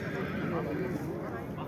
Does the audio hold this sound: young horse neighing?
yes